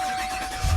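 A 2017 GMC Yukon Denali's 6.2-liter V8 fires up via push-button start, a low rumble surging in near the end of a brief clip after a quiet cabin moment with a faint steady tone.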